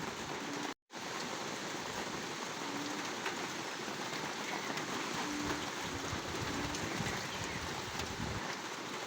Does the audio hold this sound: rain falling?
yes